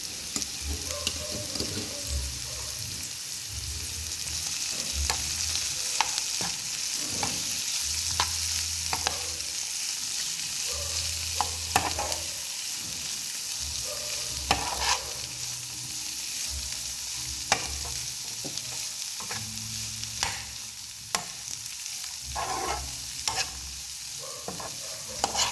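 Curry leaves and a ground paste of dry coconut, garlic and chili hitting hot oil in a pan for snake gourd fry: a steady, loud sizzle under repeated scraping stirs, with no talking.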